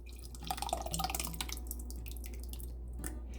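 Twenty-eight ounces of canned crushed tomatoes poured into a pot for a chicken-broth pasta sauce, making a brief, quiet burst of wet plops and drips that fades into a low hum.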